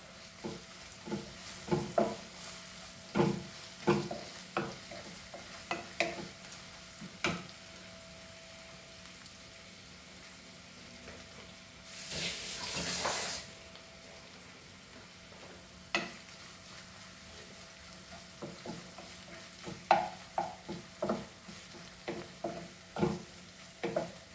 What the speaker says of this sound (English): and the garlic and few green chilies also, and we'll fry this.